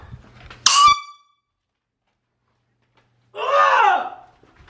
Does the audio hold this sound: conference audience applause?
no